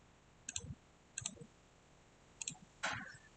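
A computer mouse clicks while someone draws lines in terrain modelling software, four crisp, close clicks spaced about a second apart in an otherwise quiet room.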